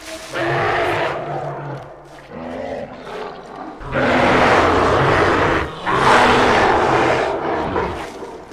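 Legendary bear in Red Dead Redemption 2 roaring loudly in long, rumbling bursts, two big roars separated by a short gap, with earlier growling and game noise beneath.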